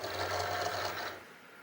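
A Cricut Explorer 2 cutting machine draws a cardstock-loaded mat inside with a steady motorized whir and low hum, close and alone, stopping abruptly near the end.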